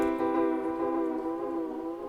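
Sustained, wavering tone through a JST Soar tape delay plugin with age and health turned down, a dense continuous smear of harmonics with slight pitch drift and dulled top end, steady and close with no voice.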